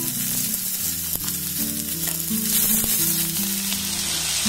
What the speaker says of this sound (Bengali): তেলটাকে ভালোভাবে গরম করে এর মধ্যে দিয়ে দেবো পেঁয়াজ আর কাঁচা লঙ্কাটা।